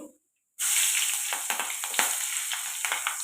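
Chopped green chillies and fenugreek seeds fry in a pan with a sudden, steady, close sizzle that starts after a brief silence, dotted with light stirring clicks.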